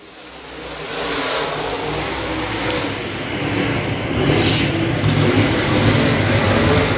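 A pack of USRA Modified dirt-track race cars roars off at the start of a B main event, engines building into a loud, dense rumble that swells and grows closer over several seconds.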